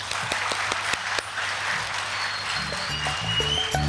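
An audience at a Nauryz holiday concert applauds in a steady, dense wash of clapping that continues throughout, with faint tones beneath it.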